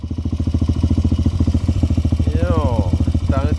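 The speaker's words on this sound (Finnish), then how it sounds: "tää on nyt täysin lämmennyt ja aika niinku rikkaalla käytää tyhjäkäynti" A warmed-up ATV engine idling rich, with a loud, fast, even low thumping close by and someone talking in Finnish over it near the end.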